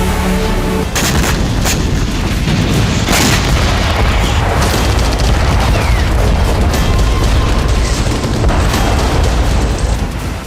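Heavy artillery shelling in Kherson during the Russia-Ukraine war: loud, close booms and blasts strike repeatedly in irregular bursts, layered over a constant rumbling roar for the whole stretch.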